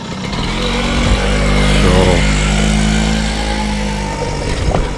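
A motor vehicle passes close by on a road with a loud, low engine drone. It swells toward the middle and fades as it goes, heard from the roadside.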